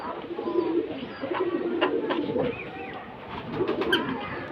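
Pigeons on a crowded village rooftop coo in soft, repeated low bursts, close by and fairly clear, with a brief pause midway and no one talking.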